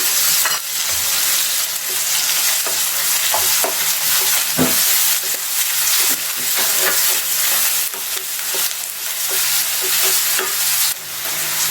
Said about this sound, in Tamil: இப்போ எண்ணெய் காய்ஞ்சிடுச்சுங்க இதில் ஒரு கப்பு வெங்காயம் பெரிய வெங்காயம்